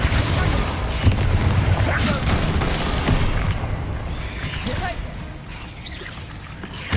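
Spell effects in the video game Hogwarts Legacy, bursts and booming magical impacts in busy combat, with a voice speaking over the action.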